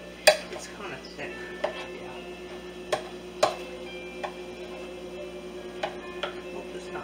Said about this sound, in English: I'm going to use a spoon to mix this because it's kind of thick.